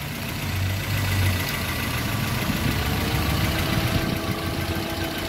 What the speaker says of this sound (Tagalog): umandar na yung radiator fan motor